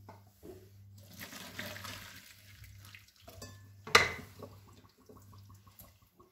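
Washed eggplant drains in a strainer with a running, splashing water sound and brief clatter, one sharp knock near the end, under a low steady hum.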